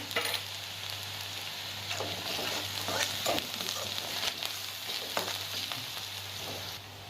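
Onion and garlic sautéing in a pan, a steady close sizzle and crackle with occasional stirring scrapes, continuous throughout and free of speech.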